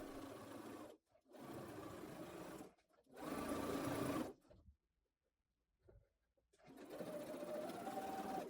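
A sewing machine stitches elastic channels into a dress, running in several steady bursts separated by short pauses, close and fairly loud with no talking.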